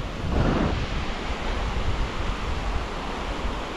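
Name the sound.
rough sea waves during net fishing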